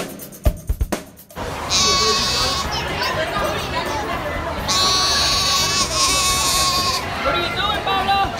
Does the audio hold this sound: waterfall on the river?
no